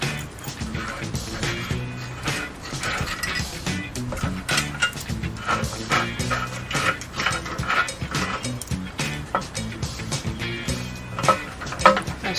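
A ratchet wrench clicks in quick repeated bursts while unscrewing a bolt during a VW independent rear suspension pivot install in a garage, with metallic mechanical rattling close up and no talk.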